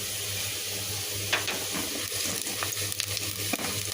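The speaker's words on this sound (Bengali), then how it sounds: "লাউ ডাইলের ফোড়ন দিয়ে দিলাম" Onion, garlic and whole cumin hit hot oil as a tempering for gourd dal, giving a steady close sizzle with small crackles and pops over a low hum.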